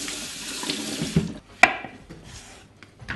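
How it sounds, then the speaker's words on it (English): Endive leaves are rinsed under a running kitchen tap, a steady rush of water into the sink, close by, with a sharp splash midway before the flow settles again. "while you are washing this endive"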